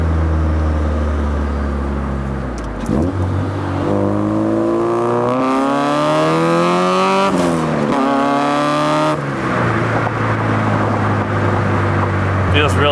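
A K-swapped Honda Civic engine revs hard, climbing in pitch, then drops sharply at each gear change, including a quick 2nd-to-3rd shift, before pulling up again, loud and close throughout.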